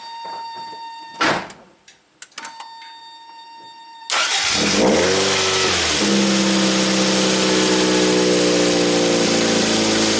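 A 1987 Toyota MR2 engine cranks and catches after a few clicks, then settles into a steady, loud idle close by.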